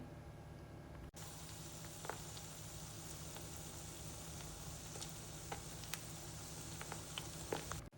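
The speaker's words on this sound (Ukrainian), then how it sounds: "ми починаємо смажити по 3-4 хвилини з кожної сторони" Steady, gentle sizzling of battered cauliflower frying in a pan, with occasional small pops and crackles, close and fairly quiet, no voices.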